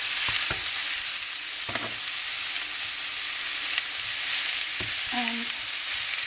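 Ground meat hitting a hot pan with garlic, a loud, steady sizzle and crackle filling the whole stretch, with a few scraping stirs of a utensil close by.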